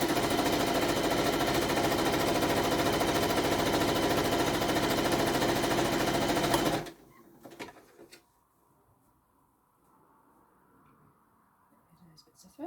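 A sewing machine stitching along the shorter edge of fabric for a small handbag runs in a fast, steady mechanical rattle for several seconds, then stops abruptly. Faint handling noises and a quiet room follow.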